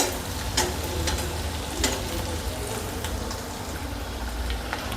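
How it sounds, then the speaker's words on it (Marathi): Onion and spices for misal fry in oil and are stirred, producing a loud, steady sizzle with a low bubbling rumble underneath and occasional scraping knocks of the spoon, close and continuous. "थोड़ा कांदा मऊ होऊ देते मसाले टाकते चांगलं मिक्स करून घेते"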